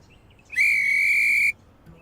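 A railway guard's whistle at a station gives one steady, shrill blast lasting about a second, clear and loud against a quiet background.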